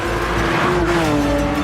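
A Porsche 911 GT3 RS 4.0 revving hard, a loud, close, sustained engine note that rises in pitch and then settles slightly across a short burst.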